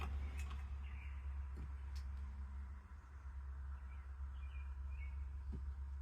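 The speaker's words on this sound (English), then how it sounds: "Sure sounds like the cardinal." A cardinal sings outdoors beyond an open window, giving a few faint, sparse whistled chirps over a steady low rumble of a vehicle interior.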